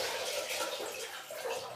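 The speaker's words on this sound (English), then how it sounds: "Pour away the water." Rinse water steadily pouring and splashing out of a colander of buckwheat, a continuous gushing wash close by with no talking.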